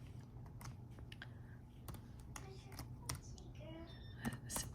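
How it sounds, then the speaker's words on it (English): Soft clicks of a computer keyboard as a function is typed into Desmos, a quiet, uneven patter of keystrokes close by over a faint hum. "So I'm going to type in my f of x"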